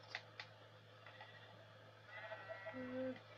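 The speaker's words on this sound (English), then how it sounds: "Oh black and white sheep" Sheep bleat in the video game Minecraft with short, wavering calls near the end, over a faint steady hum and a few soft clicks.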